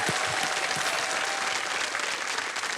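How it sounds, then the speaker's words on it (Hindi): A studio audience on the quiz show Kaun Banega Crorepati applauds to welcome a contestant to the hot seat. The clapping is loud, dense and continuous from start to finish. "तालियों के साथ मैं चाहूंगा कि इनका स्वागत करिए"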